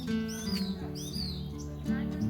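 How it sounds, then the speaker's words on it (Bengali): Morning birds chirping in repeated quick, bright tweets and rising calls, fairly clear and close, over a continuous musical background. "সকালবেলা পাখিগুলো এত সুন্দর করে কিচিরমিচির করে ডাকছে"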